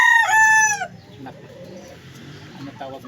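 A chicken gives a loud, close crow-like call for about a second, followed by quieter scattered clucks and shuffling handling noises.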